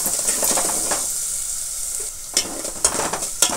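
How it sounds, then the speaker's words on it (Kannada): Crushed green chillies frying in hot oil give a steady, loud sizzle with bright hissing, broken by a few sharp scraping stirs near the end. "ಅದು ಎಣ್ಣೆ ಕಾದ್ಮೇಲೆ ಅದನ್ನು ಹಾಕ್ಬೇಕು ರೀ. ಎಣ್ಣೆ ಒಳಗೆ ಫ್ರೈ ಆಗ್ಬೇಕು ರೀ."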